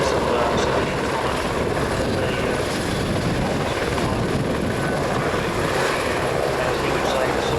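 Helicopters at the Avalon Air Show make a loud, continuous rotor and engine drone that holds steady throughout, with a commentator talking over it.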